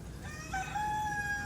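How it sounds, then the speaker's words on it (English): Roosters crow loud and close in a short burst, drawn-out cock-a-doodle-doo calls overlapping with faint clucking of other fowl, no talking. "these roosters are going to drown everything else out"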